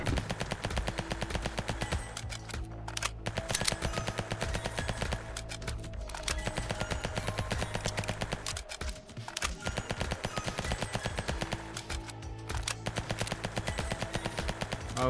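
Rapid automatic gunfire from an extra demonic firearm in a video game, dense fast bursts that run almost nonstop and loud, with a few brief gaps.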